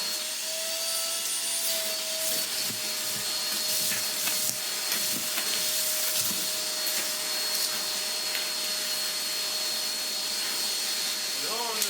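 A vacuum cleaner runs continuously with a loud whining roar, its pitch shifting slightly as it moves, with faint rustling underneath.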